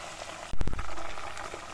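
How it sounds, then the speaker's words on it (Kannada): Ghee heating in a pan on a stove crackles and sputters as its water cooks off, a steady close bubbling hiss with a brief louder burst of pops near the start. "ಚಟಪಟ ಚಟಪಟ ಅಂತ ಸೌಂಡ್ ಬರ್ತಾ ಇದೆ ಸೌಂಡ್ ಎಲ್ಲ ಒಂದು ಸ್ವಲ್ಪ ನೀರಿನಂಶ ಎಲ್ಲ ಹೋದ್ಮೇಲೆ ಸ್ಟಾಪ್ ಆಗುತ್ತೆ"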